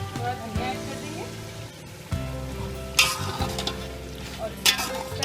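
Beef kaleji masala with coriander is stirred in a pan, making a sizzle with scraping and clinking of the spoon against metal at intervals, under a faint background hum.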